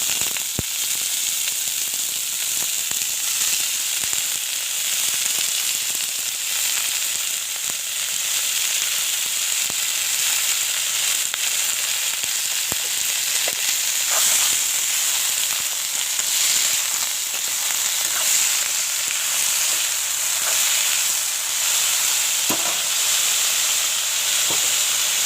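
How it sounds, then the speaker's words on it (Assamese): Carrots, potatoes, broccoli and chopped green chilies fry in a pan, giving a steady, dense, close sizzle and hiss that runs unbroken throughout with no voices. "আৰু এতিয়া মই গাজৰ আৰু আলু আৰু এই ব্ৰকলি দিম"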